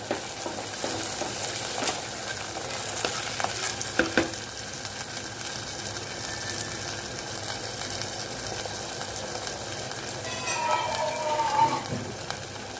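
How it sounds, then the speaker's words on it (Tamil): Eggplant curry bubbling and sizzling in a pan, a continuous close crackle with occasional clinks and stirring noises, growing busier near the end. "கொஞ்சமாக நம்ம தண்ணி விட்டு நல்லா கொதிக்க வைக்கணும்."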